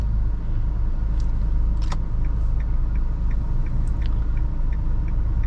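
A Hyundai Accent CRDi manual hatchback diesel engine hums steadily while driving, a constant low rumble with road noise throughout and faint ticking clicks, with no voices.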